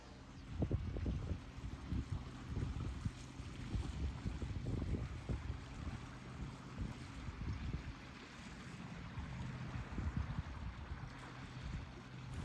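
Steady low rumble of a wildlife trip boat moving over water at Martham, with wind buffeting the microphone and lapping water throughout; no voices.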